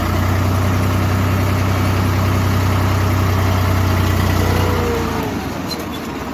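A Swaraj 855 tractor hauls a loaded trolley up a slope in low gear, its engine a loud, steady, close drone that eases slightly near the end.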